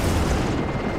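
A deep, rumbling blast from The Division 2 roars loud and broad in a single sustained burst that fills the whole moment with no voices.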